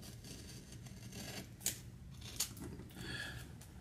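A knife slices through a Flor de las Antillas cigar at close range, giving two short, crisp cutting snips over a steady low room hiss, with no talking.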